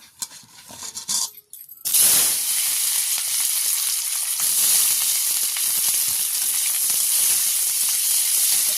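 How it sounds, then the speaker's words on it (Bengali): Diced capsicum frying in hot oil in a pan for an egg paneer dish, giving a loud, steady sizzle that bursts in after a few soft clinks and hisses on without a break. "ওই ক্যাপসিকামটা ওই তেলের মধ্যে দিয়ে ভেজে নিচ্ছি।"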